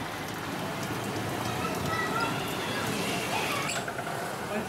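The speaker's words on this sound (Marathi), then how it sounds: "आपण बघतोय मस्त पाऊस सगळीकडे झालेला आहे" Heavy monsoon rain falling in the Karjat area of Raigad, Konkan, a dense, steady hiss of drops on surfaces that holds without a break at close range.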